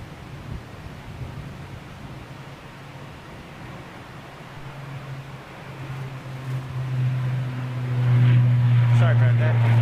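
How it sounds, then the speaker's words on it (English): A TUI Boeing 787 Dreamliner jet airliner approaching on its inbound path, a broad steady roar that builds gradually and grows louder and nearer toward the end, with a low tonal hum emerging. "TUI Dreamliner inbound"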